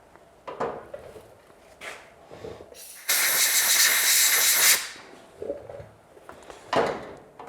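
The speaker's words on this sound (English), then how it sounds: "I'm going to blow it out with compressed air just to make sure we get anything out of it." Compressed air blasts into a small Janus 250 carburetor float bowl, one loud steady hiss of about a second and a half, framed by quieter clicks and handling noises before and after.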